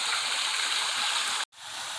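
Steady rushing water from a waterfall on a wooded hiking property in Dennard, Arkansas, a broad continuous hiss heard from nearby, cut by a brief dropout before the flow resumes.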